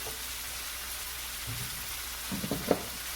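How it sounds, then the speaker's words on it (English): Low, steady sizzle of a pork chop frying in coconut oil, with faint crackles and a few sharper pops near the end. "so it is cooking very nicely, sizzling, and it sure smells good"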